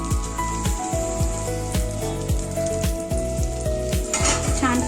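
Peanut-stuffed green chillies fry loudly in a pan on a Maharashtrian stovetop, a dense crackling sizzle broken by repeated scraping and clinks of a spatula turning them.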